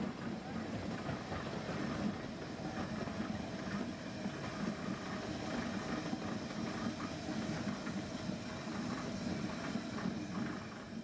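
A 1941 FC Hibbard Planet narrow-gauge locomotive hauling a passenger train on a light railway, a steady rumbling engine drone with hiss and clattering wheels, continuous at moderate distance, with a voice speaking over it.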